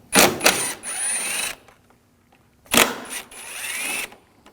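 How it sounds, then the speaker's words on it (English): Bumper cover screws on a 2006-2009 Audi S4 come out under a T30 socket on a power tool, in two close, loud bursts of whirring, each rising and falling in pitch, separated by a brief pause. "Now we're going to take these screws out, use a T30 socket."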